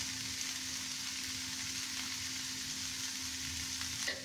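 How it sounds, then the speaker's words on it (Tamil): Cauliflower paratha stuffing sautés in a pan with chilli powder, turmeric and garam masala, giving a steady, close, continuous sizzle and hiss with no talking throughout. "இப்போ நான் வந்து ஒரு 1-2 நிமிஷம் வரைக்கும் நல்லா வதக்கிட்டேன்."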